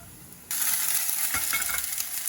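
Stirring and turning food frying in a hot pan, with a steady sizzle and scraping spoon strokes starting abruptly and continuing up close, with no voices.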